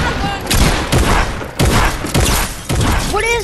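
Super Combat shotgun blasts in Fortnite, four or five heavy booming shots spaced about half a second apart, loud and close, with a voice breaking in near the end.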